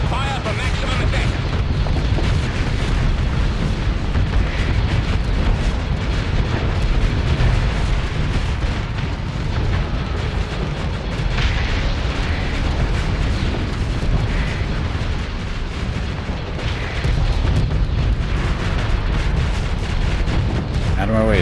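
Starship weapons firing and explosions in the space game Starsector, a dense and continuous barrage of booms and blasts that stays loud throughout, with someone talking over parts of it.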